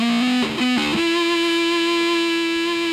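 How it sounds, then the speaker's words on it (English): Electric guitar through a Supercool Blue Meanie fuzz pedal with the octave engaged for a chorus-like effect, a loud distorted buzzing tone with a couple of quick note changes before settling into one sustained, thick fuzzy note. "you could jump into the octave for more of a chorus effect"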